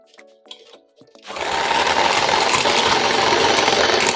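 An electric mixer whipping cream in a bowl set in cold water for chocolate ice cream starts up after a second of faint clinking and runs steadily with a loud, constant whirring hum.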